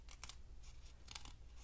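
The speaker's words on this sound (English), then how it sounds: "We're going to take our scissors and cut just like a really small" Scissors snip paper for a handmade birthday card, a few quiet crisp cuts in quick pairs against faint background hiss.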